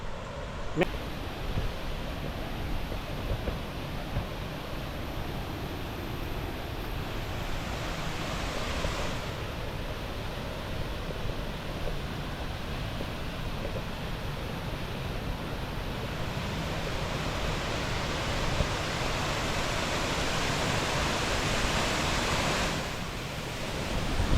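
Steady roar of the Mandawala Ella waterfall near Rotupihilla limestone cave, a constant broadband rush of falling water heard up close throughout, with some wind buffeting the microphone.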